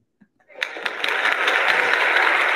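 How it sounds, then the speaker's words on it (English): Applause plays as a sound effect, swelling from near silence into a steady, dense wash of clapping that holds for a couple of seconds. "That's a better applause right there."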